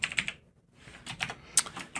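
Computer keyboard typing code in short bursts of crisp, close key clicks, a brief pause, then more uneven keystrokes, with no talking.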